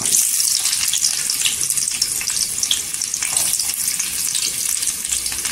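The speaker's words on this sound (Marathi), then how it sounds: "आणि सोनेरी कलरवर कांदा करून घ्यायचा" Onions sliced for a peanut chutney fry in a spoonful of oil in a pan, making a loud, constant, close hiss with faint crackle throughout and no talking.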